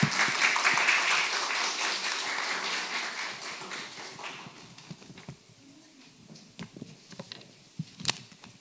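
A church congregation applauds to welcome a pastor at a Sunday service: broad, dense applause at first, gradually thinning to scattered individual claps toward the end.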